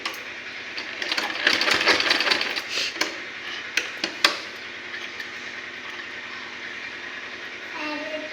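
A sewing machine stitches in a village home, a close rapid mechanical rattle that runs for a couple of seconds, followed by a few sharp clicks and a quieter hum, with people talking nearby.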